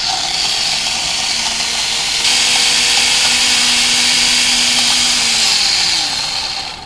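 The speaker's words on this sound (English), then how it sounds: "let's go ahead and crank this blender up to high" Dynablend blender with a glass carafe running on high while blending a green salad with macadamia nuts, a loud steady motor whine that climbs a notch after about two seconds and then winds down near the end.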